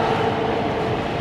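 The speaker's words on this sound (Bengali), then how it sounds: "বাংলাদেশের মেট্রো রেল।" A Bangladesh metro rail train at Diabari station gives off a steady, loud rumble with an even mechanical hum that holds throughout, and no voices are heard.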